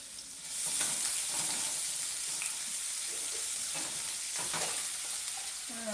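Hot pepper and onion sizzle steadily in a hot pan, with scattered stirring scrapes over a constant hiss throughout.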